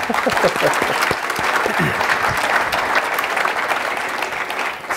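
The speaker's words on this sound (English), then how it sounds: "Give him a round of applause" Audience applause at a Grad Nation report launch event honoring Russ Rumberger, a dense steady round of clapping from a crowd that holds for several seconds and tapers slightly at the end, with a few brief voices mixed in.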